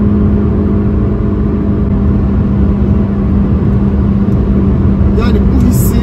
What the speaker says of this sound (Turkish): ve araç hızlanıyor.